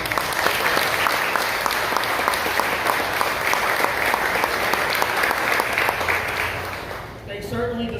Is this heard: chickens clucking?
no